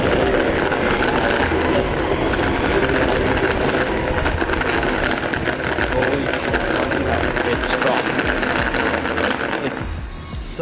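Benchwheel electric longboard hub motor running, a loud, harsh mechanical whir with rapid rattling texture that holds steady for about ten seconds before easing slightly at the end.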